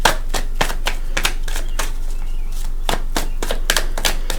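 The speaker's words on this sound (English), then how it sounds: "And we're going to shuffle." Tarot cards shuffled by hand in a series of sharp, crisp riffling bursts at uneven intervals, close up and clear, with quiet gaps between the shuffles.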